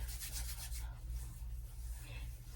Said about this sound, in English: Literally start at my ends, and I just lather the oil.